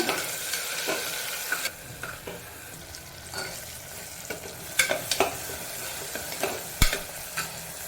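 Chopped tomato and curry leaves sautéing in a pan for mint coriander rice, a steady close sizzle with scattered sharp spatula scrapes and stirring clicks throughout.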